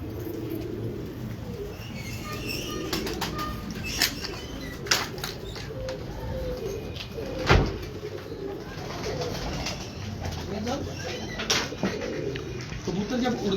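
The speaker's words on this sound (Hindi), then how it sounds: "कबूतर जब उड़ के आता है" Pigeons coo softly amid a rustling outdoor background, with occasional wing flaps and a sharp thump midway; voices talk faintly at times.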